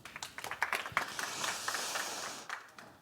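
Scattered clapping from a modest audience at a tech meetup talk on event-driven architecture on AWS, starting with a few separate claps, swelling briefly into light applause and then fading.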